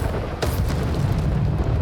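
A Bombarda exploding spell bursts in a Hogwarts Legacy duel, one sharp blast followed by a dense, sustained low rumble, loud and close, without speech.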